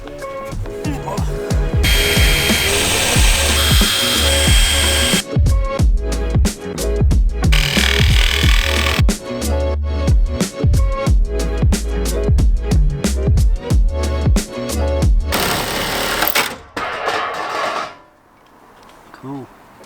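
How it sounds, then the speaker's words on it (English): A power tool cuts holes through the metal roof of a Ford Transit van, making a loud, harsh, rapid chattering and grinding that runs almost continuously, then stops near the end. "Just got to cut it out now. Let's go cut some holes in the van."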